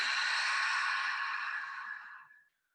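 A single long, forceful exhale through the mouth during yoga breathing, close and breathy, holding steady for about two seconds before tapering off into silence.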